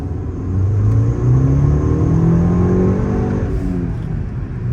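A VW Mk6 GTI with a stage 2 clutch accelerating hard on a wet road, engine note climbing steadily in a loud, close, continuous rumble through the gears with no talk.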